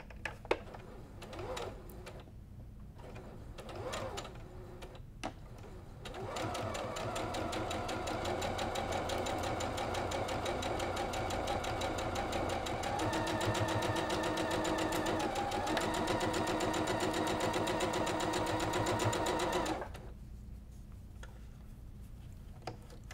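A sewing machine runs continuously for about fourteen seconds stitching a Sawtooth Star quilt block, a fast, even mechanical whir that shifts slightly in pitch midway, preceded by a few short bursts and clicks and followed by quiet.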